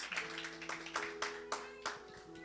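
Congregation clapping hands in praise during a Spanish-language church sermon: several sharp, uneven claps sound close, with a sustained musical tone and some voices running underneath.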